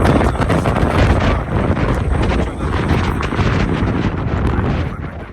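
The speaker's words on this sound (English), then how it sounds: "It's windy." Loud wind gusts buffet the microphone in a constant rough roar among boulders, rising and easing slightly throughout.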